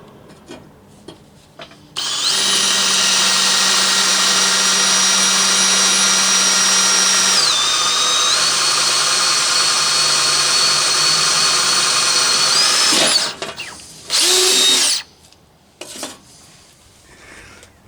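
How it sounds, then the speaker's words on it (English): A power drill bores holes through a metal plate, a steady loud whine holding for about ten seconds, dipping once in pitch, then short bursts as it stops and restarts. "we got to drill some holes so that I can bolt this to the lift"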